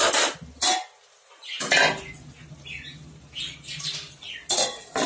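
A metal lid set down on a pot of vegetarian cabbage curry, heard as several sharp clanks and clatters spaced across a few seconds, close and fairly loud, with quiet rustling between the knocks.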